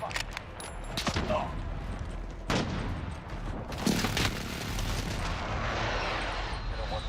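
Heavy booms and rumbling blasts from an airstrike in Call of Duty Cold War, a few big impacts followed by a long rolling roar, with voices talking underneath.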